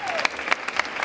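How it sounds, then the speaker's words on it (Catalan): Short burst of audience applause at a carnival arrival celebration, dense hand clapping with a few sharper claps, heard over faint voices. "Demanem un fort aplaudiment pels nostres col·laboradors"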